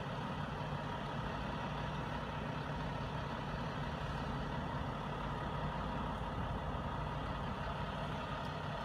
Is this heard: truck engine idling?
yes